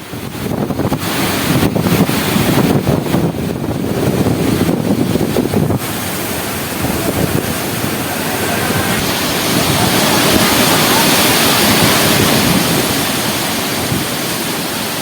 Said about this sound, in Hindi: ये कितना तेज बहाव है। कुछ भी इसके रास्ते में आएगा ये उसे अपनी चपेट में ले लेगा।